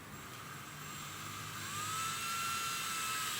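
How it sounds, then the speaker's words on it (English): A power drill bores a hole into the rear bumper of a VW Golf GTI Mk6 while a splitter is fitted, giving a steady high whine that rises slightly in pitch, close and fairly quiet, with no talk. "the drill is straight, so you don't want to go sideways"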